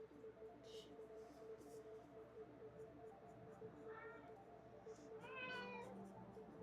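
Pet cat named Woodhouse meowing indoors after dinner, two or three short, faint rising meows over a low background hum with some soft rustling.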